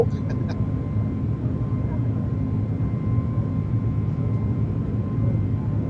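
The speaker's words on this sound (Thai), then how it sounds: "ทำไมเครื่องบินเราเร่ง เดี๋ยวเร่ง เดี๋ยวเบา" A Thai Airways Airbus A321 in a flight simulator game drones with a steady low engine hum and whine, holding a constant rumble with a few brief clicks at the start.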